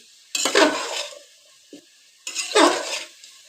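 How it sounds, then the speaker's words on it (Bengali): Cauliflower stir-fries with spices in a hot pan, two loud sizzling bursts of a spatula scraping and tossing, each about a second long, separated by a quiet pause. "ফুলকপিটাকে ভালো করে কষে নিচ্ছি"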